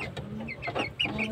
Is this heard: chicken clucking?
yes